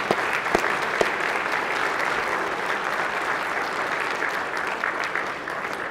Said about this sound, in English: colleagues, if you would give a round of applause